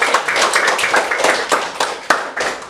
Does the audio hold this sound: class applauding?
yes